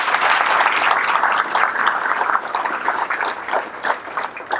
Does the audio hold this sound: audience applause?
yes